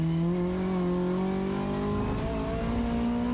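A Mazda MX-5 Cup race car drives on a track, its engine loud and close with a sustained drone that shifts in pitch as it works through a corner.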